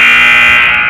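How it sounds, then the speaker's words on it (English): Basketball game buzzer at a high school varsity game, a loud sustained electronic tone lasting the full moment with no talk over it. "And there's the buzzer."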